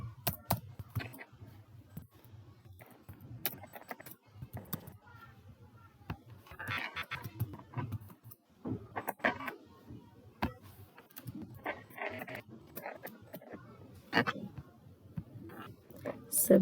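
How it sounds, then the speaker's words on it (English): Typing on a computer keyboard while entering data into a Word document: irregular clusters of soft key clicks, close and fairly quiet, with a voice talking intermittently over them. "so now I will type the data further"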